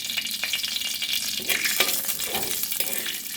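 Cumin and fennel seeds sizzling in hot oil as a Bengali tempering for a bottle gourd dish, a loud, crackling, continuous fry with small pops and stirring, close to the pan.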